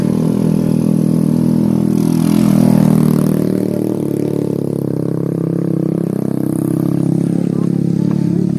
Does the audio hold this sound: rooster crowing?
no